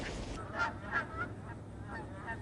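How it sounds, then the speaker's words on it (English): Migrating geese honk at Blackwater National Wildlife Refuge, several faint distant calls spaced through the clip over soft outdoor ambience. "geese, ducks, shorebirds, and other migratory birds leave their northern nesting grounds and fly southward"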